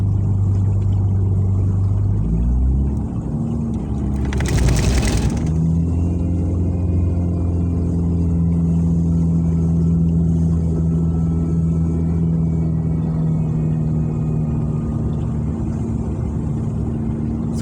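A car pushes through deep floodwater on a flooded road in south-east Reading, Berkshire, its steady low engine rumble continuous and close, with a brief loud wash of water splashing midway.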